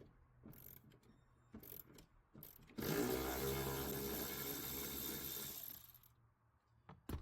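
A ratchet breaks loose 10mm bolts under the seat of a RAM TRX, a sustained close, dense clicking burst lasting about three seconds, set between quieter handling noises.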